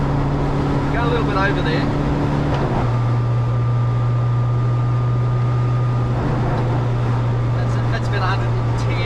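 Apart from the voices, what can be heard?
car engine exhaust drone at speed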